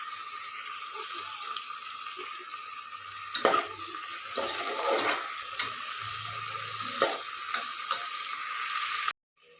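Tomatoes sautéing with rock salt in a pan, a steady broad sizzle throughout with occasional soft stirring scrapes and knocks, then a sudden cutoff near the end.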